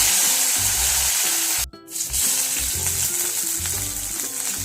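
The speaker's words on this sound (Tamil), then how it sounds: "கடாயில் எண்ணெய் ஹீட் ஆனதும் சீரகம் போட்டுக்கலாம்." Cumin seeds crackling in hot oil in a kadai, a loud, dense, continuous sizzle close up with a brief clatter partway through, no voices.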